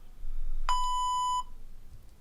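A single clean electronic beep signals the start of a spoken response in an English speaking exam, holding one steady tone for under a second against a quiet background.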